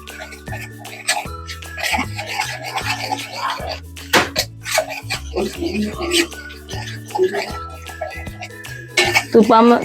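Mango pulp with ghee, aamras, is stirred in a container with repeated scraping and clinking of a spoon against the sides, close and irregular, while soft background music plays underneath.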